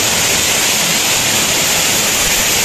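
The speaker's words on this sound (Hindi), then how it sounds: "पानी की आवाज़ भी सुन सकते हैं" Jaskol waterfall in the Jhelum Valley rushing in a steady, loud, broadband roar of falling water, continuous and unbroken throughout with no voices over it.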